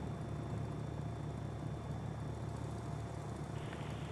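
A Mooney aircraft taxiing in a VR flight simulator gives a steady, low, broadband propeller-engine drone, constant and fairly loud, with no breaks.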